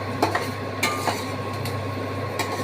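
A utensil stirs a cauliflower and fenugreek curry cooking in butter in a pan, giving a few sharp clinks and scrapes against the metal over a steady background hum.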